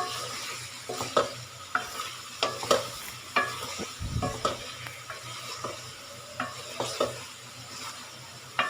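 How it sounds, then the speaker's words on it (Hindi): Goat liver (kaleji) frying with ground spices for an Eid feast meal, with a spatula scraping and stirring in a rhythmic series of close strokes over a continuous sizzle. "अब इसको हम स्पाइसेस के साथ फ्राई करेंगे।"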